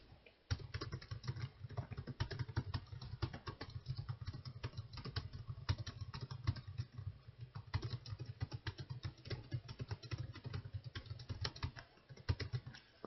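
Typing on a computer keyboard with the Tab key pressed, a rapid quiet run of clicking keystrokes at close range, continuing steadily with a few short pauses.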